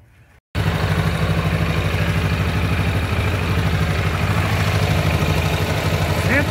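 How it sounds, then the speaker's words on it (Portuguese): A Yamaha Ténéré 660 motorcycle's radiator cooling fan runs with the engine, a steady loud mechanical whir and rumble with a fast regular pulse that starts abruptly after a brief quiet moment and holds unchanged. "Ventoinha funcionando."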